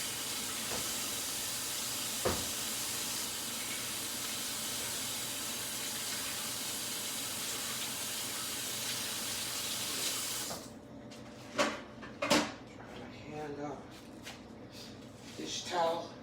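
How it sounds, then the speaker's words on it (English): A kitchen faucet runs steadily as hands are rinsed of raw ground beef juice, a broad hiss that stops partway through, followed by a few clunks and faint handling noises. "let me wash my hand again, get the meat juice off."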